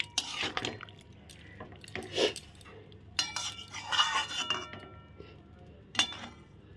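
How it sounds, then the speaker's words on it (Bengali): A lid is set onto a cooking pot of spicy bori being cooked in water, giving several light metallic clinks and clatters close by, some sharp and brief, scattered across a quiet kitchen background. "এখন ঢাকা দিয়ে দিচ্ছি।"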